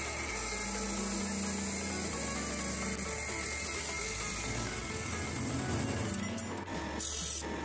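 Steel stock being sawn into two eye pieces in a workshop, a loud continuous grinding and whirring cut with a steady mechanical hum that roughens toward the end.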